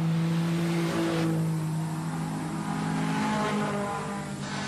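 Several junior sedan race car engines roar and whine together on a dirt speedway, pitch rising and falling as they accelerate around the track, loud and continuous.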